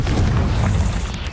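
Confringo explosion spell in Hogwarts Legacy, a loud sustained boom with a dense low rumble filling the whole moment, close and heavy.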